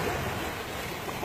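Surf washes steadily onto Boracay Beach in the Philippines, a continuous broadband wash of breaking waves with some wind, moderately loud and unbroken for the whole moment, with no voices.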